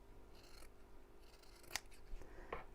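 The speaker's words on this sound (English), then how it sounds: "I'm going to snip around the toe section, so just cut down on the bulk here" Scissors snip through fabric around the toe section of a sewing project, trimming bulk: a few quiet cuts stand out at intervals against a faint background.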